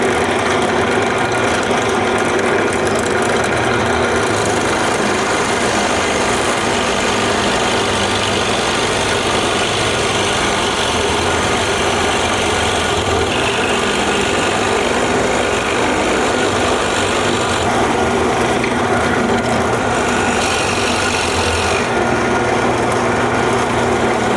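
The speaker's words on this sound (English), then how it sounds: "Let's get that on the drill press." Drill press running and boring through a wooden mallet head in a woodworking shop, a loud continuous high motor whine with grinding cutting noise throughout, no talking.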